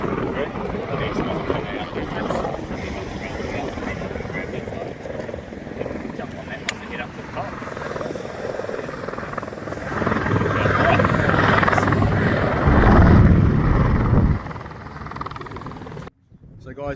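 A helicopter flies near the Siberia Valley in New Zealand, its rotor roar continuous and swelling louder toward the end, buffeted by wind noise and then cutting off abruptly.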